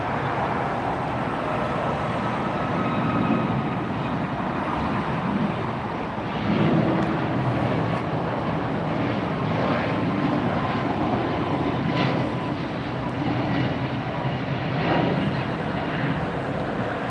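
A steady broadband engine roar from aircraft flying near LAX airport, continuous and fairly loud throughout, with faint intermittent clicks and no speech.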